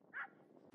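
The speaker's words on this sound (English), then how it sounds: "that dog is annoying" A single short dog bark, faint and somewhat distant, rising briefly over quiet background noise.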